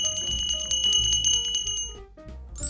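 A bell rings in a rapid repeated jingling pattern, bright metallic strikes close and clear with no other sounds, fading at the end.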